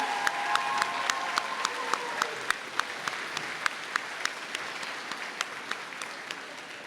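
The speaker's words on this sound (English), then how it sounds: "students, would you please give a round of applause for all these incredible chaperones that help with prom?" Students in a high school assembly applaud steadily for prom chaperones, a dense, even wash of clapping with sharp individual claps standing out, a few cheers at the start, lasting throughout.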